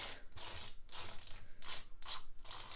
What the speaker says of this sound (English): So scrape it really good.